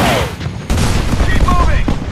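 An artillery barrage in the mobile war game Empires and Allies, heard as loud, dense rumbling explosions that crowd together into a continuous booming roar with a brief dip partway through.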